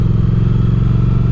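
Motorcycle engine during a ride in its break-in period, a close, steady low drone with a pulsing rhythm and no pauses.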